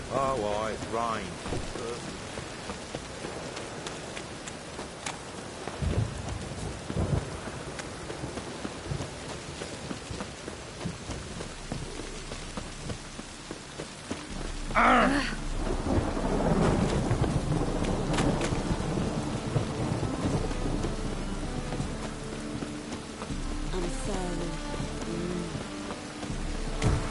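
Steady rain with rolling thunder in Witcher 3, a continuous wash of downpour that swells louder partway through as a thunder rumble builds, with scattered game sounds layered in.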